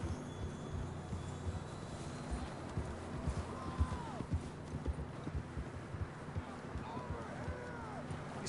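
Horse hooves clip-clop in a PS4 western video game as riders move along, a steady trotting patter under background game sounds and voices, with a faint whinny-like call now and then.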